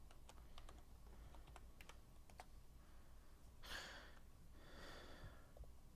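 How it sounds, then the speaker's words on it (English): Quick bursts of typing on a computer keyboard entering a search, close and fairly quiet, with a couple of breathy exhales partway through and no talking. "Let me look this up for you real quick."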